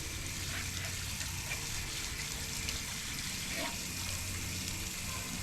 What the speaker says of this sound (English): And I'm rinsing my cylinders down.